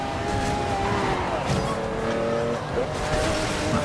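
Racing cars in Forza Horizon 2, including a Cuda, roar at full throttle with engine drone and tyre squeal throughout, steady and loud with a brief dip, while a commentator talks over the game.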